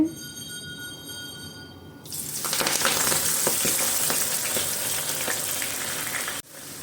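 Spinach leaves drop into hot oil for a mixture snack and set off a loud, steady crackling sizzle that runs for several seconds before cutting off abruptly.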